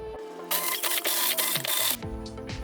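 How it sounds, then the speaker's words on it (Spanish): A kitchen blender whirs through a liquid mixture in short motor bursts, the whine shifting pitch as it runs, loud and close with no talking. "Y esto lo voy a licuar."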